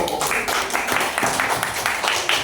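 A classroom of students claps for the first group, steady scattered applause from a small crowd, close and fairly loud.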